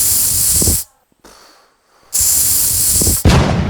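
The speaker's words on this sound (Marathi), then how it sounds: "शिट्टे कसले वाजतात अजून. बाबून कुकर बंद नाही केलं वाटतं" A pressure cooker on a kitchen stove lets out loud, harsh bursts of hissing steam, two long blasts separated by a near-silent gap and then a third starting, close and forceful, with no talking.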